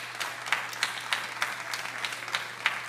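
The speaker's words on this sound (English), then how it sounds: "Please hold your applause so she can hear it." A sparse scattering of claps at a school board meeting, quiet and somewhat distant. A few hands strike in irregular, separated bursts against a low steady hum, and nobody talks.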